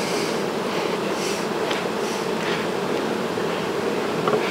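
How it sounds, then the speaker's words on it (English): Honey bees hum in a steady, dense drone around an open beehive, continuous and fairly loud with no talk over it. "Watch the bees there."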